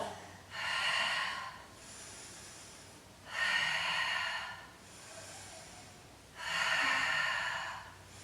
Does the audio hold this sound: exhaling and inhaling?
yes